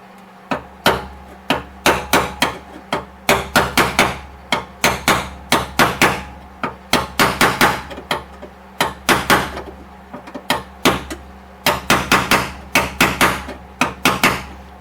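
Repeated sharp metallic hammer strikes on a bolt used as a punch against the floor pan of a Datsun 280ZX, coming in quick bursts of several blows with short pauses between, close and loud, with no talking.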